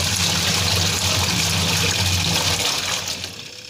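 A semi-automatic washing machine churns water and clothes, producing a loud, steady rushing and sloshing wash that eases off slightly near the end, with no voices.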